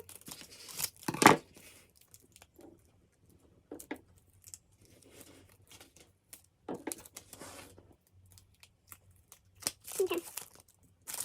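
Vinyl decal being peeled and pulled off while making a wooden sign: short crinkling, tearing bursts at intervals between quiet stretches, close and fairly soft.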